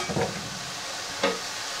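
Fresh garlic dropped into a pan on high heat for chicken tetrazzini gives a faint, steady sizzle, with a brief louder crackle and stir at the start and another burst just past a second in.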